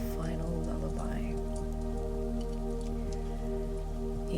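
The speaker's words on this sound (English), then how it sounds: "The sound of the rain softens again" Rain patters steadily on surfaces around a woodland cabin, a dense even hiss with scattered drop ticks, heard alongside sustained droning tones.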